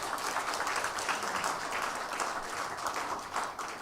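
A church congregation at Hanyang University Church claps to approve an appointment during a Sunday service meeting, a steady round of moderate applause from many hands that swells slightly near the end.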